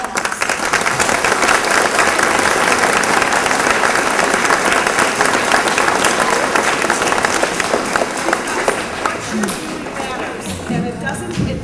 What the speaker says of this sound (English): And I want to give these guys another round of applause.